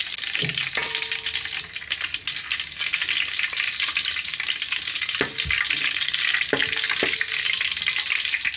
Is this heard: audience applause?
no